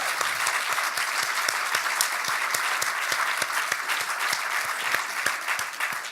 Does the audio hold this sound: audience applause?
yes